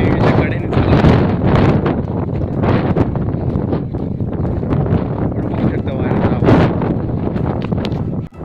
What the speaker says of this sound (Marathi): प्रचंड वेगाने वारा येतो इथे, प्रचंड वेगाने वारा आहे.